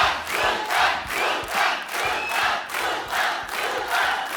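Studio audience at a Hindi comedy talk show cheering and clapping loudly in steady, swelling waves, with no one speaking over the crowd.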